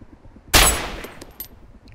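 A single sharp, loud gunshot in the video game Arma 2 DayZ Overpoch cracks close by and rings out in a decaying tail, followed by a fainter second report.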